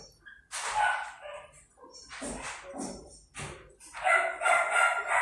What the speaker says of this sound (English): And you hear the dog, guys?